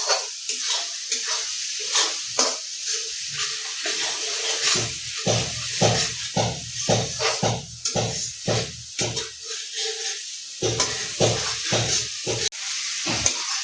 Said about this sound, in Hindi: सबटाके मिला कऽ भूजि दै छी